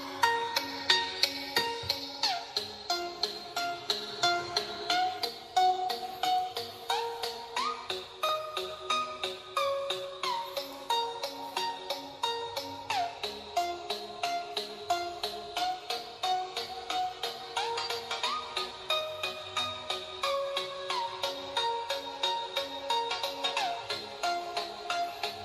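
An Evercoss Xtream 1 phone speaker plays a melodic ringtone at full volume, a steady run of bright repeating notes lasting throughout with no talking over it.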